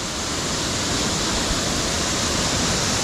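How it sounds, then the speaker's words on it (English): Harmby waterfall in the Yorkshire Dales, water forced sideways beneath a road aqueduct before dropping down, roaring as a loud, steady broadband rush that fills the whole stretch without pause. "you can see where the water's coming underneath the aqueduct, underneath the road there. It's getting forced to the left first and then dropping down."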